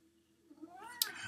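A house cat lets out a single rising meow that swells and ends in a sharp, bright peak, fairly close and alone against a quiet room.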